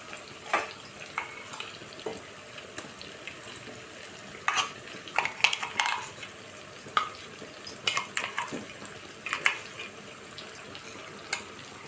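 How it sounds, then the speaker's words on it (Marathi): A spoon scrapes and clinks against a cooking pan while taking masala out, with repeated light metallic scrapes and taps over a soft background sizzle, fairly quiet and close, with no talking. "चमच्याने काढून घेऊया"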